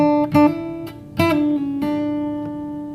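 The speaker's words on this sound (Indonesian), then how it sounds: "Jadi kalau tanpa menggunakan senar 5 ya, tanpa bass, itu suaranya seperti ini." Acoustic guitar chord strummed and picked without the fifth bass string, several plucked notes ringing out clearly and decaying alone.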